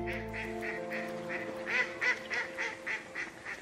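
Ducks quack in a repeated series of short nasal calls, fairly close, over a low sustained musical tone at the start.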